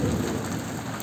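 Steady rain falling after a hailstorm in Jamshedpur, pattering on a surface, a continuous soft hiss with no voices.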